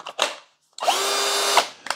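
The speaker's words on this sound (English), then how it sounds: "here's the cordless drill" A Denali 20V cordless drill gives a short whir, stops, then runs in one steady high-pitched burst of under a second before cutting off, close and loud with no talk.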